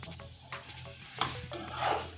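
Reddened spice paste for fish biryani sizzles in hot oil while a utensil scrapes and stirs it in the pan, a soft steady frying hiss with occasional clinks.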